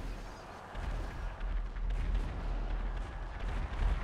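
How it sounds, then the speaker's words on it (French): Sustained gunfire and rumbling bombardment in a GTA game session with jets and rockets, a dense, continuous low roar with crackling bursts throughout, loud and unbroken without speech. "Waouh, ça tire les gars"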